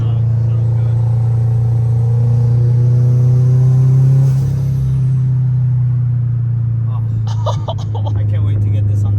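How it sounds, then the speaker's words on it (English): A turbocharged 1003 hp Subaru WRX STI engine runs on X85 fuel with a deep steady droning rumble, close and loud, then fades slightly and ends in a sharp hissing burst near the end. "Dude, the turbo sounds crazy."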